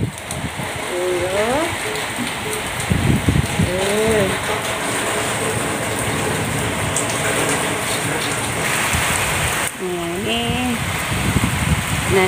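Steady rain falls on and around a house, a dense close hiss throughout, while people talk over it at several points.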